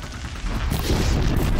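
An explosion in the video game Horizon Zero Dawn bursts into a loud, dense rumble partway through and keeps roaring to the end with no talk over it.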